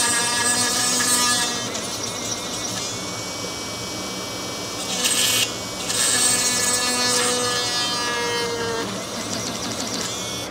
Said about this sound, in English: Let's go ahead and just drill it out.